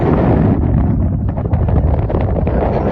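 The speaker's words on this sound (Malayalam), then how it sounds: "കാറ്റ്" Strong wind buffeting the microphone in open desert sand beside the sea, a loud constant low roar and rumble with gusty fluctuations, close and overwhelming, no talk.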